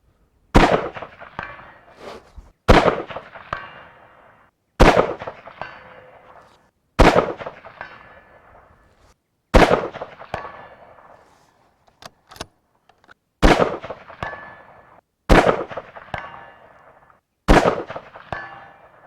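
Rifle shots with RWS ammunition fired at a steel target 200 away: eight loud, close reports at a steady pace of roughly two seconds, each followed by a trailing echo, with a few faint clicks in between.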